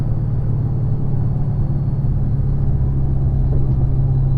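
A Dodge Challenger SRT8 Hellcat engine holds a steady, loud, low rumble during a third-gear pull, heard from inside the car as a continuous drone without talk.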